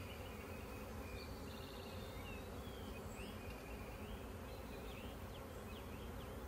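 Honeybees from a swarm, a couple hundred in the air, fly around a hive being set up in an apiary, a dense continuous buzzing drone with individual bees whizzing past close by.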